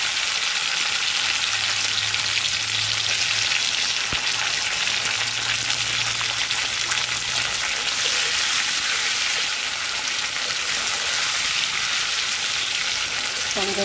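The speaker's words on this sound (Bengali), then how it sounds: "টমেটোটাকে একটু ভেজে নেব।" Tomato frying in a hot pan over whole spices, with a dense, continuous sizzling hiss that stays steady and close throughout and no one talking.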